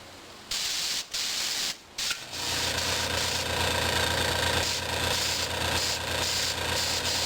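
An airbrush sprays paint onto a model M10 tank destroyer in olive drab, a steady close hiss that starts and stops in short bursts before settling into one long continuous spray.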